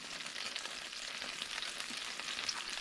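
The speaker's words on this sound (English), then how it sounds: "put about 2 teaspoons of oil. Put the garlic in." Garlic sizzles in about two teaspoons of hot oil in a wok during a beef and cauliflower stir-fry, a steady close crackling hiss with no voices.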